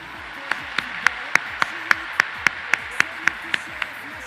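Slow, evenly spaced single claps, about a dozen sharp hand claps in a steady rhythm, moderately close, with a faint background and no dense crowd applause.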